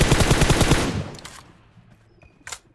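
Rapid automatic gunfire from the video game PUBG bursts out loud and fast at first, then trails off into quieter scattered sounds and one last sharp crack.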